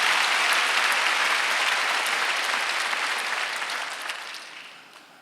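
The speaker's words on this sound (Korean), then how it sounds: "박수 좀 세게 쳐요" A church congregation applauds during a Sunday worship service, loud dense clapping that fills the room steadily and then tapers off toward the end.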